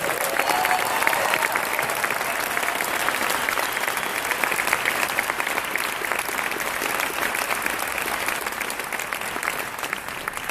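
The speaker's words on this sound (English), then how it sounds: "Please give them a very, very warm applause." Warm audience applause at the closing of a Slow Food Youth Network event, a sustained, even crackle of many hands clapping for about ten seconds without a break.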